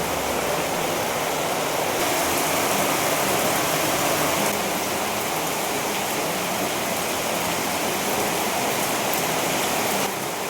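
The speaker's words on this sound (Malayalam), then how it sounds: "പുറത്ത് നല്ല മഴയുണ്ട് കേട്ടോ" Heavy rain pours steadily outside, a dense, unbroken hiss that stays loud and even throughout, with no voices.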